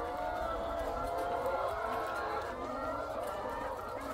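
Laying hens cluck and murmur steadily in a busy coop, a constant layered chatter with faint voices mixed in.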